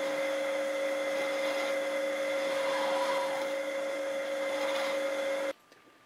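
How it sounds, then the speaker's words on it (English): A small lathe runs while machining a part for a scale model halftrack, giving a steady tonal whine with a constant hum until the machine abruptly stops near the end. "You can't imagine how helpful a lathe can be"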